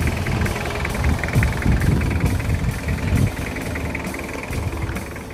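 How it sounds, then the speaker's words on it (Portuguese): A naturally aspirated Toyota Hilux 3.0 pickup engine runs steadily at idle, a loud, close, continuous rumble with a faint rhythmic pulse and no voices over it. "Olha o motor."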